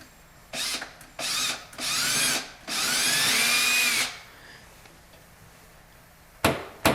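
Power drill boring 1/4 inch holes into a wall for wire shelf anchors, in several short bursts with the motor pitch rising as it spins up, then a pause and two brief final bursts.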